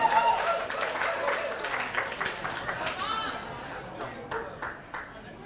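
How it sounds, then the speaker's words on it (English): An audience gives scattered, moderate applause for a woman stepping up to give a toast at a family celebration, with claps mixed with murmuring voices and chatter in the room. "Let's give Marge a big, warm round of applause,"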